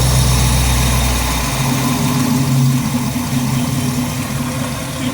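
A 1955 car engine idling with a fresh fan belt and a repaired exhaust leak, a steady low rumble close by that settles into an even idle after a brief deeper pulse at the start, with no voices.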